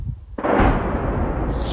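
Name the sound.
explosion from drone attack on Moscow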